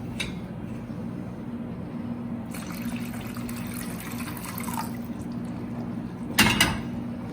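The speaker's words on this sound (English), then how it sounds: "I think I'll add more water." Water poured into a masala sauce while cooking, a steady splashing pour that swells in the middle and ends with a brief louder gush over a low stovetop hum.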